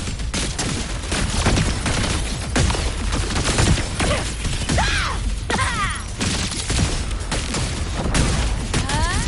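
Repeated grenade blasts and bursts of gunfire rage through a Wuthering Waves cyberpunk event battle, dense, loud and continuous with crashing impacts.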